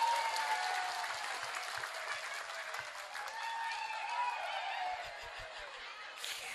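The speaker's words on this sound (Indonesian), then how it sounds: "Tepuk tangan dulu dong" Crowd applause at an Islamic religious lecture, a continuous wash of clapping mixed with light laughter and chuckles, moderately loud and steady throughout.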